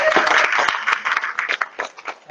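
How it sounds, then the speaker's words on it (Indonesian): An audience at a notaries' association briefing claps for Bu Mesara in a brief round of applause, a dense patter of hands mixed with a voice talking over it. "Boleh tepuk Bu Mesara."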